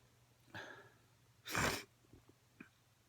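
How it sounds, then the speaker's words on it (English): A single person sneezes close by, with a sharp, loud burst preceded by a quick breath intake and followed by a faint sniff, in an otherwise quiet room. "I feel another sneeze coming on."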